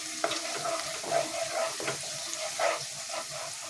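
Paneer frying in a pan, a soft crackling sizzle with intermittent stirring scrapes and small bursts of spatter, close and moderately loud, no voices.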